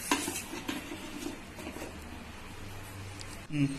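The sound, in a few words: idli plate placed into idli steamer pot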